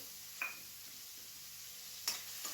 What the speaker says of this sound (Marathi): कांदाही आपल्याला पाच मिनटं तेलामध्ये व्यवस्थित परतून घ्यायचा आहे